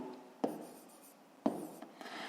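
Pen or pencil writing out a fifth-grade math solution by hand, a soft continuous scratching with two sharp taps where the tip meets the paper, close and quiet with no talking.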